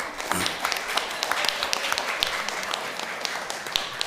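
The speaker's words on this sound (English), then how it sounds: "make a round of applause for me right now, a big round of applause" A round of applause rises at the St. Kitts Music Festival press conference, a steady patter of many hands clapping at moderate volume for about four seconds.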